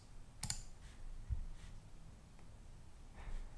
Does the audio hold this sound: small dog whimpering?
no